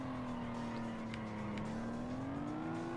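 A steady engine drone from a car in the racing video game Test Drive Unlimited holds a smooth, slowly rising pitch throughout, loud and continuous, like a race car at sustained speed.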